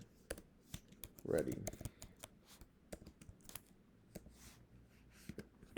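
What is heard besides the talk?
typing on a computer keyboard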